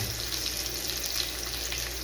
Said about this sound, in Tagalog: ngayon magigisa na tayo ng ating bawang, sibuyas, yung mga aromatics natin